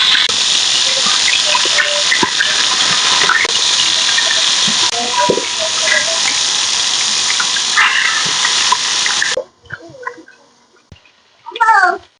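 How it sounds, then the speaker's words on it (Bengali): Fish coated in turmeric and salt fries in hot oil with a loud, bright, steady sizzle for about nine seconds, then cuts off, followed by quieter clatter and a voice speaking briefly. "মাছ ভাজার জন্য তেল দিয়ে দিলাম।"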